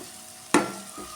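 Prawn roast masala with curry leaves and tomato being stirred in a pan, a soft steady sizzle broken by one sharp clattering scrape midway and a lighter scrape just after.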